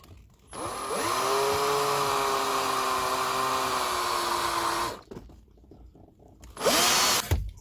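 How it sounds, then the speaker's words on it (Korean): A power drill drives screws while a car air conditioner is being installed: one long, steady whirring run of about four seconds, then a pause and a second short burst, loud and close with no talking. "나사를 체결토록 하겠습니다. 나사 숫자는 3개입니다."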